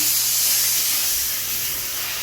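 A McCulloch Deluxe canister steam cleaner releases a loud, continuous hiss of steam, close and steady throughout, gradually easing slightly toward the end.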